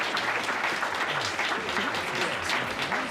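An evening stage performance closes with a theatre audience applauding and cheering, a dense, sustained ovation that holds at an even level throughout.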